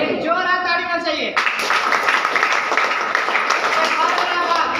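Audience applause breaks out and continues steadily as a dense wash of clapping, following a brief spoken cue.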